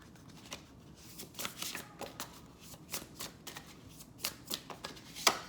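Oracle cards shuffled for a reading, a run of soft riffling bursts and papery flicks at close range, ending on one sharper snap, with no talking.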